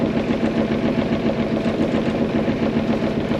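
A newly installed engine idles steadily, running on the fuel still in its lines. The mid-pitched rumble is close and even, with a quick regular pulse throughout and no talk.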